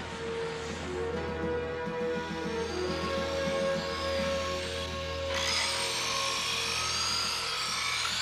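Electric saws cut into a rocket to free its crew, a grinding, buzzing drone with rasping strokes over a low rumble that grows brighter and harsher partway through, close and loud with no voices.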